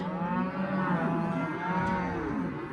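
Cows moo on a farm, one long, loud, drawn-out bellow with a strong tonal quality that rises and falls, heard close against a faint background, with no talking.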